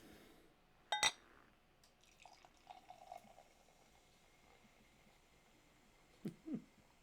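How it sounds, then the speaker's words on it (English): Beer poured slowly into a glass, opening with a sharp glass clink, then a soft trickling pour in the middle and another brief liquid splash near the end, faint against a quiet room. "we're going to get into the theatrics of a 5-minute pour"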